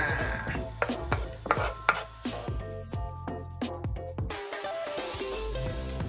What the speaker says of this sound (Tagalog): At syempre lagyan na rin natin ang ating chicken longganisa.